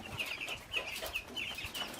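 Ten-day-old chicks in a feeding area cheep and cluck in a busy, repeated chatter, a flock of small bright peeps overlapping steadily at moderate volume against low background noise.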